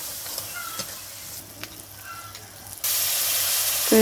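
Bottle gourd peel frying in a pan, a soft sizzle with a few light stirring clicks that swells into a louder, steady hiss partway through.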